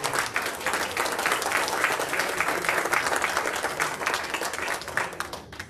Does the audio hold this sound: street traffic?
no